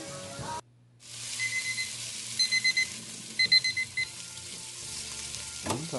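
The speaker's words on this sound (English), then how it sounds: "There we go, 5 minutes on the timer." A kitchen timer alarm beeps in short repeated bursts over steady sizzling from a pot of tomato and white bean chowder, with a soft clunk near the end.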